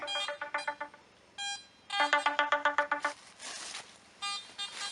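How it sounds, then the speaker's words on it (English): A cell phone ringtone plays loud and close during an outdoor metal detecting outing on former military training grounds, a repeating electronic melody in quick bursts of beeping tones that pause briefly, then resume. "This is why you don't have your cell phone on when you're recording."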